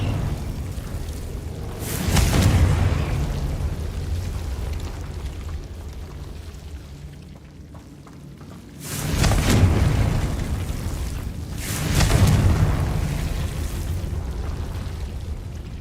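Confringo blasting-spell explosions in the Hogwarts Legacy video game: three heavy booming bursts, each with a rumbling tail, spaced several seconds apart over a low background rumble.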